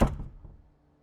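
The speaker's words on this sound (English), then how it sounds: "Please close the door behind you." A door swings shut with a single soft thud that quickly dies away, heard alone and fairly quiet in an indoor room.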